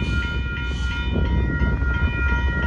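A northbound Union Pacific mixed freight train moving, giving a loud, steady rumble with faint ringing metallic tones held throughout, and no talking.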